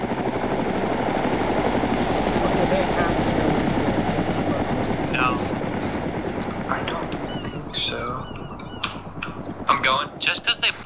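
A helicopter flies nearby with a steady, loud rotor drone that slowly fades, while voices speak over it and brief knocks and rustles come through near the end.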